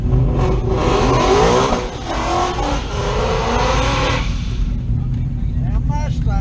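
A straight-piped Mustang at a drag strip roars loudly up close, then drops to a lower idle-like rumble while people talk nearby.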